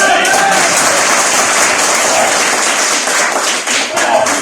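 An audience at a talk applauds with dense, continuous clapping that fills the space evenly for several seconds, loud and close, with a slight dip near the end.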